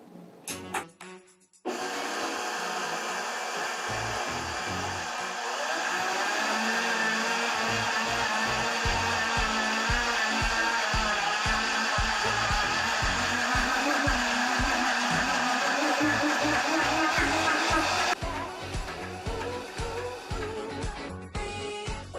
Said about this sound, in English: what we're going to do is just going to grind it up. It takes about a minute or so in the Vitamix